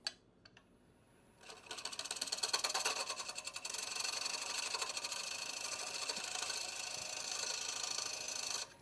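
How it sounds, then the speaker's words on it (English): A carbide tool cuts the foot of a black walnut bowl spinning on a lathe, a dense rattling chatter that starts after a short near-silence and runs on steadily. "Give this a once over with the carbide."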